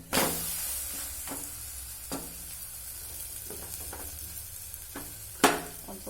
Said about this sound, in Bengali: এইভাবে সবগুলো ভেজে তুলে রাখছি